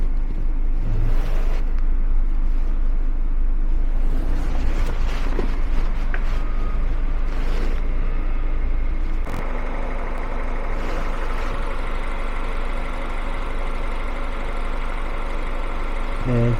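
A Chevrolet Malibu 2.0 GDI turbo converted for LPG idles on gasoline while still warming up, giving a steady low engine hum close by with a slight shift in tone partway through.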